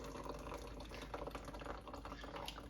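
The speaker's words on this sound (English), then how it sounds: "So now we're going to strain everything." Homemade cayenne, cherry tomato and garlic hot sauce is poured through a strainer into a pitcher, producing a soft, continuous trickling and splashing of liquid at low volume.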